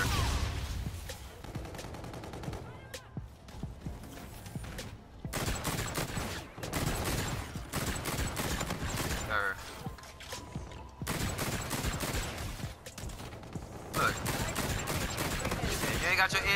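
Shotgun fire in the video game Call of Duty: Infinite Warfare sounds as repeated loud bursts and clattering blasts amid dense game noise, with a voice talking over the action.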